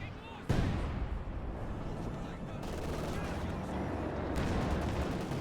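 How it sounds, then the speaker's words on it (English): A Katyusha rocket launcher barrage in Company of Heroes 2 opens with a sudden loud blast, then a sustained rumbling roar of rockets and explosions that keeps going to the end. "His 3rd Katyusha rocket launcher"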